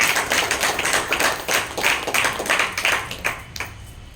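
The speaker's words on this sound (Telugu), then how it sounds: "మరొకసారి చప్పట్లు కొడుతూ సిస్టర్" Steady applause from an audience at a Catholic jubilee celebration honouring a nun's fifty years, with dense continuous clapping that swells in a few bursts over several seconds and no talk over it.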